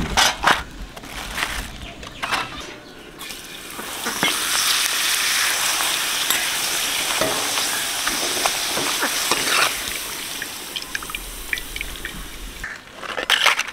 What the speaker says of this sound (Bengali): বৌদি এদিকে পাঁপড় ভাজছে